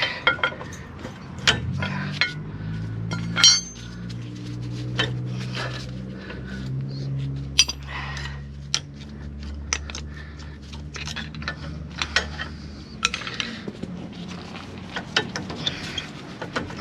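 Brake pads being pried back on a car wheel with a metal tool: scattered close metallic clinks, taps and scrapes over a steady low hum, with no voices.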